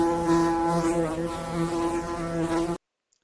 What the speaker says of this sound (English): The sound of a bee goes like this.